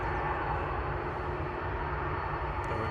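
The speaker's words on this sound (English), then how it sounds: "With those Aer Lingus engines whistling away." Aer Lingus jet engines whistle steadily at an airport, a continuous broadband roar with a faint high whine, unbroken throughout.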